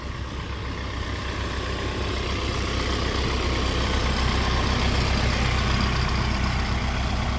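A Royal King tractor truck's heavy diesel engine idles steadily nearby, a constant low rumble with a rapid chugging pulse and no other sounds.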